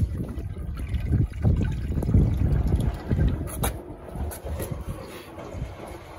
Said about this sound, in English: It's draining quite slowly compared to other gravity drain machines though, so it could be something in it.